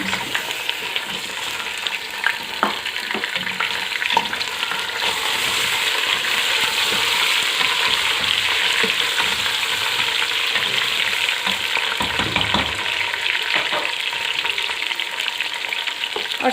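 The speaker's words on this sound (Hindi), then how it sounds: "साथ ही इसमें मैं डाल रही हूँ ये गोश्त।" Mutton sizzling and frying in a pot with green and black cardamom and cloves, a steady loud hiss with occasional stirring clinks and scrapes, no talking.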